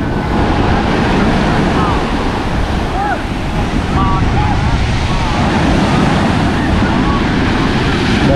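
Strong ocean waves crash and roar at a Phu Yen beach in Vietnam, a loud, continuous surf rumble with heavy wind buffeting the microphone throughout.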